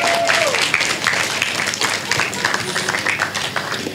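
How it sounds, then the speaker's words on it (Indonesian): Church congregation applauding during a Sunday service, a steady wash of many hands clapping at moderate volume, with a brief voice or tone at the very start. "Yuk tepuk tangan ya"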